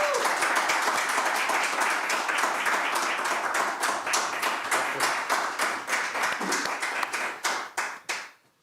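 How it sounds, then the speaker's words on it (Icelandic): An audience at a Stykkishólmur town council meeting claps steadily for several seconds, then the applause thins out and stops. "þið klappið fyrir honum"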